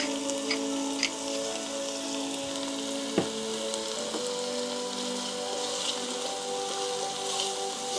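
Chopped onion frying in a pot with salt and black pepper at the start of a sweet potato soup, a steady close crackling sizzle with small pops and one sharp tap partway through.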